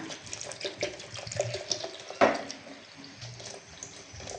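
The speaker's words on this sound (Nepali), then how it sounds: "पानी राख्नु होला, चिसो पानी।" Cold water is poured into a bowl of banana and curd for lassi, a soft, steady trickle and slosh heard faintly throughout, with one brief splash midway.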